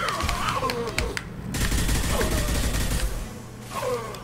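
Mass Effect 2 combat gunfire, a steady run of shots and bursts against a dense roar of battle noise, with a voice talking at times.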